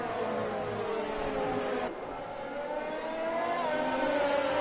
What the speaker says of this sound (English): a little bit of a margin behind him to Tucker, who once again has that McLaren right rooted to his rear